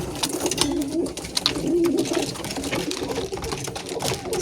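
Pigeons in a loft peck at wheat and mixed feed, giving a busy patter of pecking clicks with close, repeated low cooing from the birds throughout.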